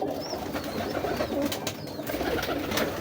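A breeder pigeon, a prized fifteen-year-old bird, coos softly in a loft, with low, rolling coos over a quiet, hissy background.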